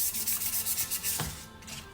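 Cups being prepped with sandpaper before epoxy, close-up rhythmic scrubbing strokes in quick back-and-forth bursts that ease off near the end.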